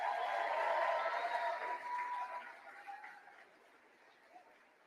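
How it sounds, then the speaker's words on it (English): A rally crowd in Colorado applauds for Isaac James, a moderate burst of clapping with some cheering that gradually fades to a faint patter. "Let's have another round of applause for Isaac James."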